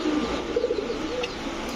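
Gola pigeons coo nearby in soft, rolling calls that rise and fall over a steady background hum, a couple of low phrases in quick succession.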